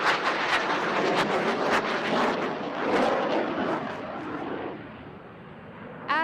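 An aerobatic aircraft flies past at the Bengaluru air show. Its engine gives a loud, broad roar that holds steady and then slowly fades, with a brief burst of noise at the end.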